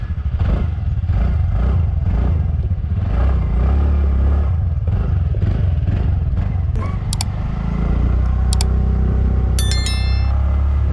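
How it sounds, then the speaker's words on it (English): A TVS NTorq 125 Race Edition BS6 scooter in sport mode runs with a deep, bassy exhaust note, loud and close, with throttle rises and falls and a few sharp metallic clinks later on. "Exhaust note is very impressive. In the lower speeds it sounds very bassy and very noticeable as well"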